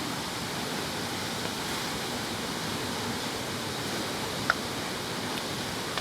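Steady broadband rush of a waterfall beside an outdoor Thai kitchen where an Isaan-style chicken curry with pumpkin and Thai eggplant simmers, constant and even throughout with one brief faint tick.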